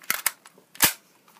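A Daisy Powerline 340 .177 caliber BB gun fires at a water bottle in the snow, giving a few sharp snapping cracks close by, with the loudest near the middle.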